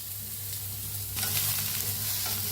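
Sliced onions fry in a kadhai, a soft steady sizzle with scraping stir strokes that turns louder and hissier partway through; no talking.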